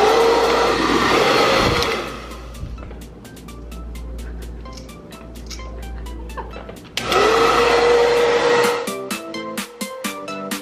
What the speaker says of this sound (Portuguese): agora eu vou pentear e depois eu vou secar o meu cabelo